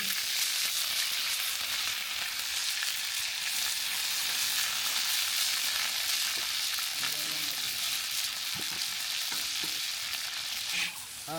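Garlic paste and ginger paste fry in a large pot along with chopped onion for a whole goat dish, giving a steady, loud broadband sizzle throughout and a few scraping stirs near the end.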